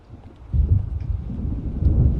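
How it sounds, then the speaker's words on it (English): Thunder from an approaching storm in the video game Alan Wake: a deep rolling rumble swells up after a quiet start and keeps grumbling with wind-like noise, with no voices. "It seems there's a storm coming."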